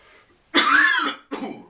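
One harsh, close cough followed quickly by a shorter, softer second cough.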